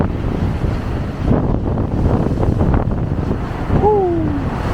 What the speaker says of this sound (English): Both dudes were just getting soaked by the waves.